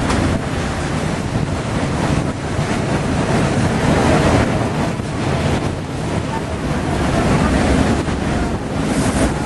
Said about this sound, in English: A lot of strong waves on this side of Costa Rica